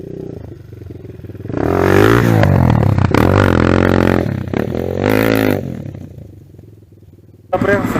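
A 200cc motorcycle rides on a kart track in winter, its engine revving and accelerating loudly with a rising, harmonic-rich drone, easing off, then roaring again near the end, with some clatter and a voice talking.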